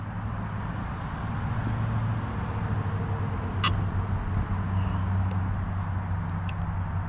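A stretched Arrma Typhon RC car running on a 4S battery during a speed test pass, producing a continuous motor whine and drone that stays steady throughout, with brief sharp clicks over it and no talking.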